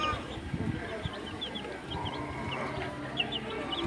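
Light Brahma chicks cheep in high, scattered peeps over a low, busy background rumble from a brooding area, with occasional soft clucks throughout.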